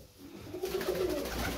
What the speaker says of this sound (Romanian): Porumbei se prezintă bine.